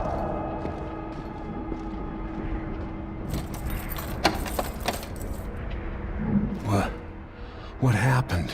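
Keys jangle in Dishonored 2, a metallic rattle under background game ambience and some speech, with brief clinks and shakes in the latter seconds.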